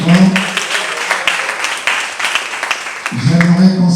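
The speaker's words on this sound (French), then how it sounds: "j'aimerais qu'on l'applaudisse très fort" Concert crowd applauding a singer, a sustained wash of clapping with cheers, bracketed by someone speaking over a microphone at the start and again near the end.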